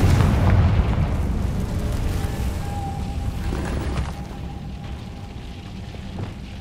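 A booming fiery blast from the Confringo spell in Hogwarts Legacy opens loud, then decays into a long rumbling, crackling tail with a faint tonal ring.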